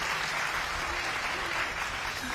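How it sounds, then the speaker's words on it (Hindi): An audience claps steadily in a dense, sustained burst of applause at a lively wedding-song performance, with no talk over it. "एक बार ताली साहब बजा दो, मैं बहुत मेहनत कर रहा हूं।"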